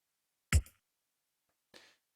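A single electronic snare drum hit, cut from a beat during music production, sounds once as a sharp isolated crack with a brief tail, followed by a softer, fainter noisy hit after a pause.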